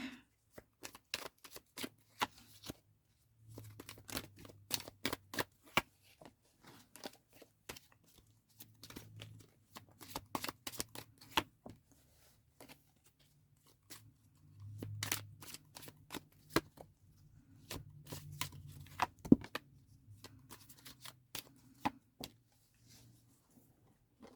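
Oracle cards being shuffled by hand in a quiet room, giving repeated bursts of crisp riffling and flicking that come in clusters with short pauses between them, close and fairly soft, with no talking.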